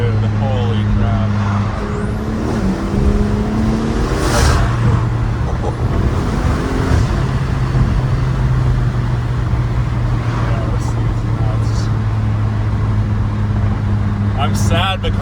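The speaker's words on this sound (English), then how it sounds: "We have the turbo spooling like crazy now." BMW X3 M engine fitted with a T51R turbo and IRL exhaust, revving hard on the road with a steady loud exhaust drone, rising turbo whine and whistles, and passing traffic around it.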